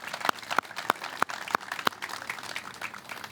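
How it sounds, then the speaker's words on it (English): Applause for veterans and active duty service members at an outdoor 9/11 Patriots Day event, a few sharp, evenly spaced claps over a light, scattered crowd clapping that stays fairly quiet. "please join me in also a round of applause for our veterans and active duty members with us today."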